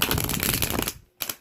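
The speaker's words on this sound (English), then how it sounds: "Does anyone else like the sound of a riffle shuffle?" A deck of tarot cards is riffle shuffled up close, a dense crackling flutter of cards running for about a second, a brief pause, then a short burst as the cards are squared or bridged back together.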